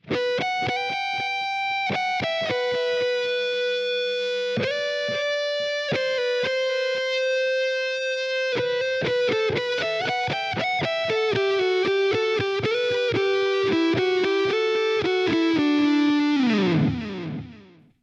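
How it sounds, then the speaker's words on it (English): Overdriven electric guitar with delay, gain and a rolled-off, dark, mellow tone plays slow sustained notes, each trailing into echoing repeats, growing denser before fading out. "it's kind of a haunting kind of guitar sound"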